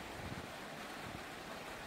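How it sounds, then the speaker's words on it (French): Wind buffets the microphone outdoors as a supercell storm passes, giving a broad, rough rush with low, irregular gusting thumps. It stays faint and steady, with no voices. "Il y a du vent."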